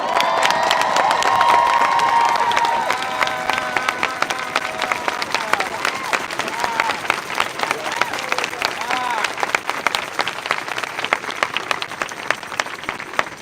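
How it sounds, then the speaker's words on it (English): A large outdoor crowd at a drag march claps and cheers steadily and loudly for over ten seconds, with shouts and whoops rising over dense applause. "So let's clap again."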